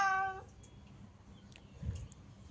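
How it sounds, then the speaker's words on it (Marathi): A single short cat meow rings out at the very start, then fades into faint, quiet room noise. "हे मांजर आहे."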